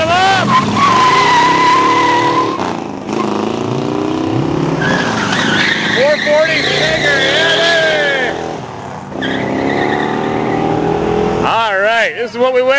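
A Hemi V8 muscle car does a burnout at a Musclepalooza car show, with loud sustained tire squeal and a roaring, revving engine up close, dipping briefly before building again, with voices heard over it.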